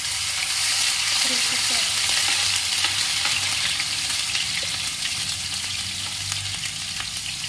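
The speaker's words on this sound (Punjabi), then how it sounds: "ਤੇਲ ਆਪਣਾ ਗਰਮ ਹੋ ਗਿਆ ਹੁਣ ਵਿੱਚ ਜੀਰਾ ਪਾਉਨੇ ਆ" Cumin seeds sizzle in hot oil in a pan while a spice mix for stuffed bitter gourds is made, a steady close frying hiss with light stirring scrapes that eases slightly toward the end.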